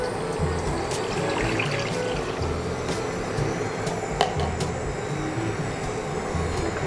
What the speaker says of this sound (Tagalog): Lalagyan natin ng tubig.